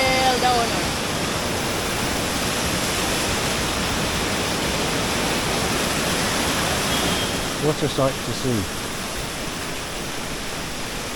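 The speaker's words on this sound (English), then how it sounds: "So much water coming out of the mountain. And it's really, really loud." Water pours from a mountainside at the Palasanon waterfalls, a loud, unbroken rushing roar that fills the scene. A person speaks briefly over it near the end.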